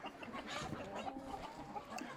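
Wenchang chickens clucking on a farm, continuous overlapping calls at moderate distance with steady background noise.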